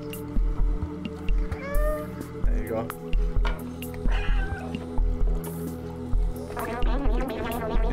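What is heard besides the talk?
cat meowing in the video game Stray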